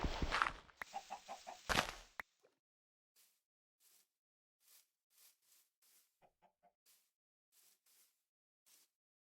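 Chickens in the video game Minecraft, heard as short, faint clucks spaced irregularly across the clip after a brief loud burst of other game sound at the start.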